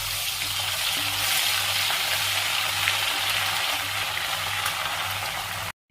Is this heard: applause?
no